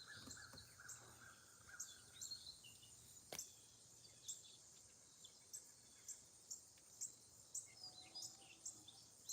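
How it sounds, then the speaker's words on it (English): Birds call outdoors at night, with repeated sharp chirps and caws spaced every second or so over a faint, quiet background hiss. "Can you hear the birds?"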